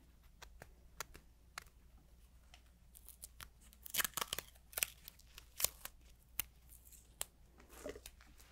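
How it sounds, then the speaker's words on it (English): Medical tape being torn and pressed down to hold a bandage in place, a quiet close series of scratchy rips and crinkles in an irregular rhythm. "Let me just put some tape on there"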